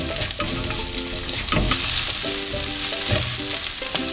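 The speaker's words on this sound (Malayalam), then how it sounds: "ഇനി ഇത് വഴറ്റി കൊടുക്കാം." Small shallots sauté in a pan for a coconut milk chicken curry, giving a steady close sizzle broken by a few stirring scrapes, with no voices.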